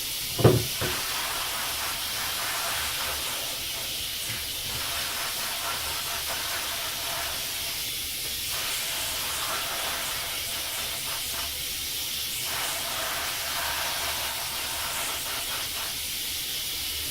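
Water spray hisses steadily while rinsing a baseball catcher's helmet, a continuous close wash of noise after a brief sharp knock at the start.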